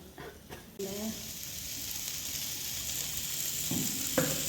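Ground tomato masala for poppy seed gravy sautéing in a pan, giving a steady, close sizzle that swells after a few early stirring scrapes. A few soft clanks of a spoon sound near the end, and no one speaks.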